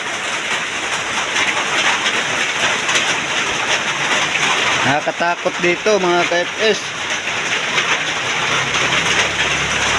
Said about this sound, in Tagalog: yung ulan ay walang tigil